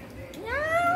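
A voice imitates a cat's meow in a single rising, drawn-out tone that grows louder toward its end, close and clear.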